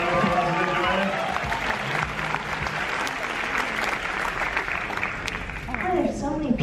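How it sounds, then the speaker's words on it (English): An audience at a book festival applauds as authors come up to the stage, a dense, sustained roar of clapping from a large crowd with some voices mixed in. "Let's have you guys have a round of applause and enjoy it."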